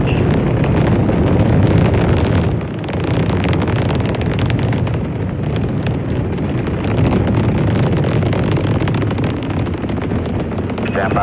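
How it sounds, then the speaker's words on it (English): Saturn V rocket engines roar during the Apollo 15 launch, a loud, continuous broadband rumble with steady intensity and a brief dip partway through, heard through wind-buffeted microphone noise with faint radio voice traffic. "You have good thrust on all 5 engines."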